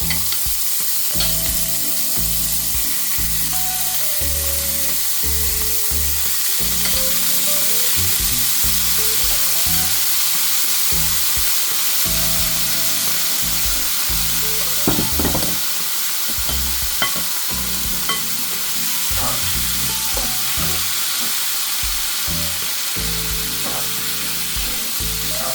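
Marinated pork fries with garlic in a pan, a loud, steady sizzle with repeated stirring scrapes and a few sharp clinks, with no voices.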